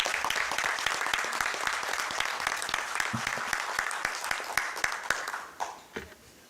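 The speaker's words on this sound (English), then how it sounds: "One more round of applause for Adam." An audience at a Roselle Park borough council meeting applauds with dense, close clapping that holds steady, then thins into a few last claps and dies away.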